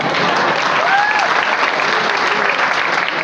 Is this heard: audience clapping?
yes